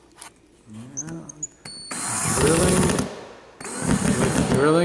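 Power drill driving into a sheetrock wall while mounting a wall clock, a loud continuous whine and grind in two long bursts, close up, with brief talk and handling noise before it.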